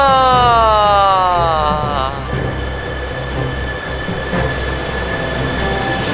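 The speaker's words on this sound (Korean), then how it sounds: "기차가 들어오네요." A themed train pulls into a station, wheels squealing loudly in high gliding tones that fade into a steady rumbling roll and clatter of railcars, close by, with no talking.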